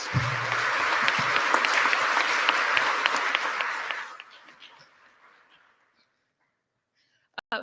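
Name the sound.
audience applause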